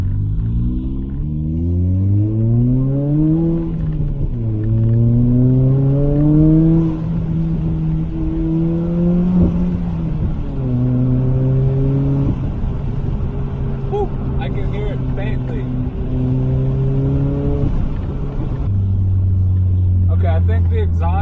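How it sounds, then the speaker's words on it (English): A turbocharged car engine revs up through several gears, pitch climbing and dropping with each shift, loud and close from inside the car. "Let's go for a drive and see what kind of turbo noises we get."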